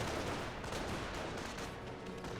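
Dense rifle fire and explosive mortar rounds in a Company of Heroes battle, a continuous loud wash of crackling gunfire and blasts with no clear gaps.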